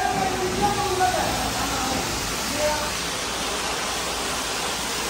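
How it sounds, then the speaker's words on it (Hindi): A pressure washer sprays a steady, loud hiss of water onto a car at a car wash in Saudi Arabia, continuous and close, with someone talking over it. "अभी देखो पानी मार रहे हैं।"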